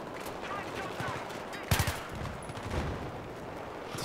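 Short bursts of rapid video game gunfire in Battlefield 3 crackle amid noisy background action, with one sharper volley standing out midway.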